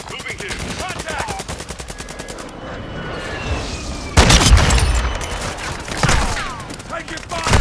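Rapid automatic gunfire from a Call of Duty: Modern Warfare II multiplayer match, dense bursts of shots with booming impacts and a louder volley midway, loud and continuous with no clear speech.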